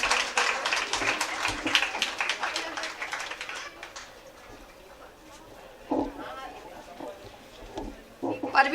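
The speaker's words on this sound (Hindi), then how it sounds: "इनके लिए ज़ोरदार तालियां बजाइए।" An audience at a women's day felicitation and prize distribution event claps in a burst of sharp, scattered hand claps that taper off. Quieter stretches and short returns of clapping follow, and talk can be heard faintly underneath.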